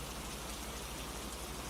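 Steady rain falls on a night setting, a dense, even hiss of drops hitting surfaces that fills the whole clip without pause or voices.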